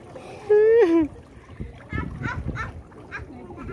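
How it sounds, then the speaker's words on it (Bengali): A child ducks underwater in an outdoor swimming pool, making a few splashes and watery churning. A voice rises loudly over the start, and people talk and call out throughout. "এই তো ডুব দিছে রে"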